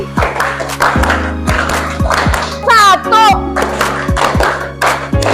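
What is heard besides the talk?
rhythmic clapping by class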